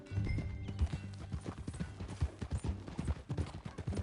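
Horse hooves clip-clop in Red Dead Redemption 2, a steady, close, fairly loud rhythmic trot of repeated hoof strikes with a neigh or snort mixed in and no talking.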